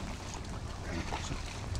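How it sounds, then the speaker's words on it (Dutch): Wind rushes and buffets the microphone on a boat in a constant broadband roar, loud and close, with faint watery sounds beneath. "Lekker wind, René"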